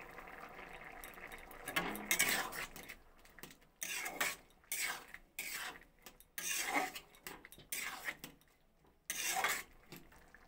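A spoon scrapes and rasps through chickpea ghugni with chopped coriander leaves in a pan, in repeated bursts of stirring separated by short quiet gaps.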